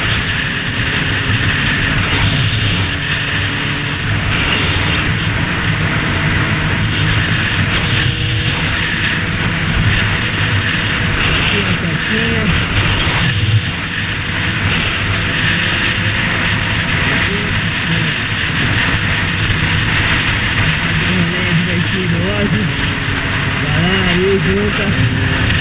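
A motorcycle ride on cold tires, warming them up on a road near Perth, Western Australia, with a steady engine drone and wind running continuously throughout, under occasional talk.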